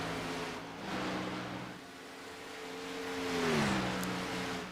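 NASCAR stock car engine from a sim racing game at Watkins Glen, a moderately loud droning engine rising and falling in pitch as the throttle is eased on and off.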